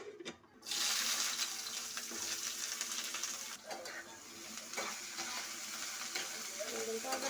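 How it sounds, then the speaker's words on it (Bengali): Brinjal slices frying in hot oil, a loud continuous sizzle with crackling bursts and some clatter, close by with no talk over it. "বেগুনটা আগে ভাজা করে দেবো"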